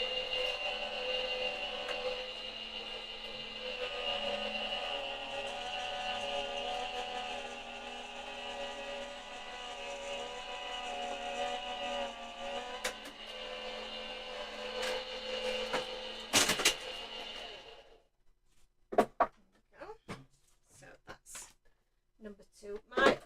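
A die cutting machine runs a card through its rollers for a Halloween box card, giving a steady mechanical whir with a tonal hum for about seventeen seconds before it stops, followed by a few scattered clicks and handling sounds.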